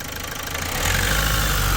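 A car engine runs steadily during fault diagnosis of a turbo problem (code P2598), then its pitch and loudness rise as it revs up and holds at a higher, rougher drone.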